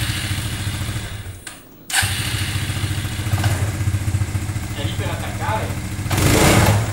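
Suzuki LTZ250 quad engine runs nearby with a steady low putter that briefly drops out, then resumes and swells louder near the end, while people talk over it.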